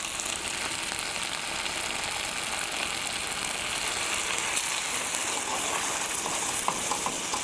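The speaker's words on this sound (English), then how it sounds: "Now, I'm going to start adding this stock a little bit at a time." Stock poured a little at a time into a hot pan of onions and rice for spinach risotto, giving a steady, even sizzle and bubbling that runs unbroken throughout, close and moderately loud, with no voices.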